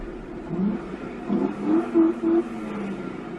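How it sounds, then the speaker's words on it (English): A car engine revs at police during a traffic stop in a few short bursts, rising and falling, fairly close by with a steady low rumble between them. "Is he seriously fucking revving his car at the cops?"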